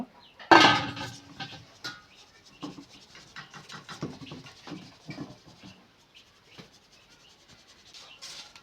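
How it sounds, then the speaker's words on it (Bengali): Wheat flour being sifted through a sieve while making batter for a Bengali okra fry: a sharp clatter at the start, then faint, uneven scraping and tapping rustles close by, with no talk. "এবার আমি আটা চালাতে চেলে নেব"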